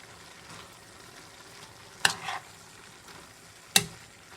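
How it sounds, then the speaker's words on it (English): Seasonings stirred into cabbage and chicken in a pot, a soft simmering sizzle broken by two sharp spoon knocks against the pot rim, quiet and without voices. "Give it a good stir."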